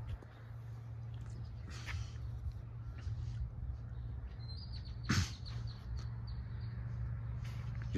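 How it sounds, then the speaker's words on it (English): Birdsong and the steady hum of distant traffic drift through a backyard with grass and a covered concrete patio in South San Antonio, a constant low rumble under scattered chirps, with one brief louder rustle partway through. "let you guys listen to the traffic, the volume, the birds"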